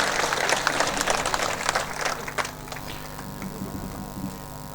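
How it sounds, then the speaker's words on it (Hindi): A crowd at a BJP political rally of farmers in Rajasthan claps loudly at first, the dense applause thinning out and fading over a few seconds in an open setting. "तो एक बार जोर की ताली बजा दो जो आंखों सम्मान हो जाए अपनी तरफ।"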